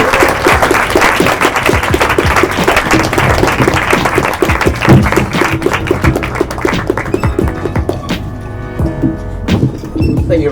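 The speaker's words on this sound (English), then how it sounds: "Can we give Matthew a big round of applause?" A church or community audience gives a loud round of applause after a talk, dense close clapping that thins out toward the end.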